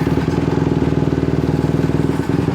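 A Honda CRF150R dirt bike engine runs with the choke on, idling close by with a fast, steady, slightly uneven chugging pulse and no talking.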